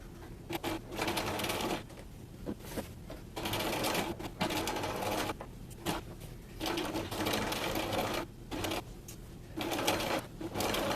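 A sewing machine stitches an invisible zipper onto a pillow in fast rattling bursts, starting and stopping repeatedly with short pauses between runs, close and clear.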